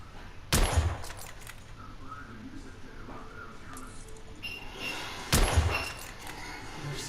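Two sharp, loud gunshots from a weapon in The Order: 1886, one early and one past the midpoint, each a broadband crack with a brief low thump, separated by quieter game ambience.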